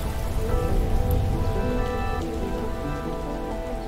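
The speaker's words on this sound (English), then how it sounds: "When the clouds get too full overhead, they release water as raindrops, or snow, sleet, hail" Steady rain falls and patters on a surface, a dense, even hiss of drops close by with no voices.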